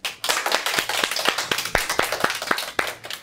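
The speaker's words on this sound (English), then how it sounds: "Let's give a round of applause for Tim Shim." A round of clapping for a performer in a Bible story skit, made of distinct, evenly spaced sharp claps from a small group close by, sounding sparse rather than a full crowd roar.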